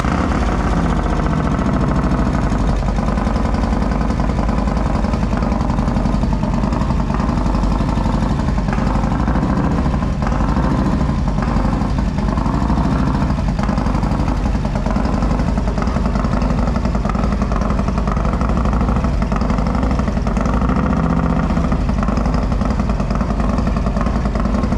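A Harley Road Glide with a new cam build starts for the first time and idles, a steady, loud, close rumble running without a break and without talking.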